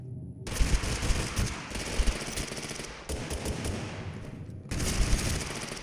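Gunfire in the video game TABG: rapid, dense automatic bursts that stop and restart a few times, loud and continuous between short breaks, with no talking.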